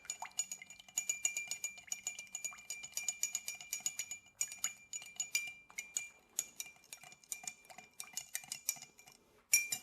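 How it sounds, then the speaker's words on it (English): A spoon stirs a Japanese drink with sugar in a glass, quick rhythmic metallic clinks against the glass in rapid bursts with brief pauses, close and clear with no talk. "Give this a good little stir."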